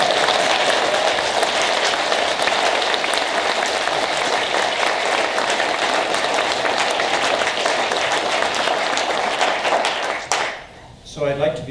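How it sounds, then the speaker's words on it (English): Audience applause for the appointment of the second resident woman named a Supreme Court judge, a steady dense wash of clapping lasting about ten seconds before fading as a voice begins to speak. "And you can clap for that."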